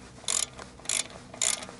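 Three quick ratcheting bursts as wheel hub parts are tightened by hand, close and crisp with short pauses between each stroke against a quiet background.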